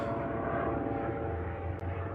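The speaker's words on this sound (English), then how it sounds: "Now we're getting a plane go over top" A fixed-wing airplane passes overhead, producing a steady, fairly faint drone that holds evenly throughout with no talking.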